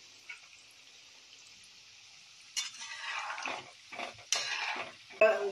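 Pieces of shankarpali dough hit hot oil and fry on a medium flame. A faint steady hiss gives way to bursts of crackling sizzle, and the pieces are stirred with occasional clinks.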